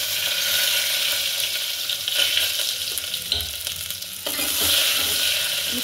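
Onion frying and being stirred in hot oil with mustard seeds and ginger-garlic paste, a steady close sizzle with scraping stir strokes, briefly easing then rising again.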